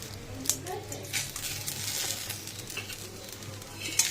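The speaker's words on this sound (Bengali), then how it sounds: "এবার এর মধ্যে এই যে তেজপাতা ফোড়ন দিয়ে দিলাম" Bay leaves tempered in hot oil for a Bengali paneer curry, a soft close sizzle with sharp spitting pops at the start and end, a few scattered crackles, and a faint low hum underneath.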